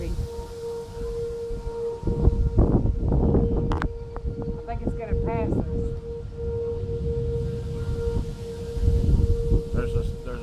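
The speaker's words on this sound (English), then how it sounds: "Okay, sirens are off. Nope, they're back on." Tornado warning sirens wail outdoors, a steady rising and falling tone carried on gusty wind, moderately distant, while people talk nearby over the sound.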